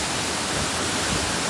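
Heavy monsoon water rushing beside a cave at Anjankund in Dang, Gujarat, a loud, dense, unbroken roar filling the whole moment.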